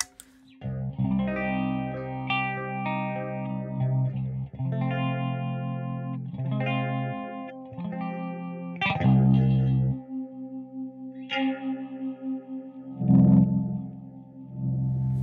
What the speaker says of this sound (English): It's a lovely sounding phaser.